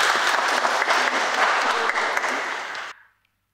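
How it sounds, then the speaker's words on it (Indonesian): Loud congregation applause fills a church during a closing service for a children's and youth week, steady dense clapping that cuts off abruptly near the end, with a voice starting to speak over the fading tail. "Kita beri aplaus tepuk tangan untuk semuanya itu."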